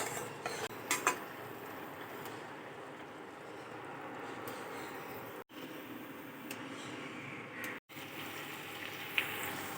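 A chicken stew with yardlong beans being stirred in a pot, a steady soft scraping and sizzling bed with a few metallic utensil clinks, no talking.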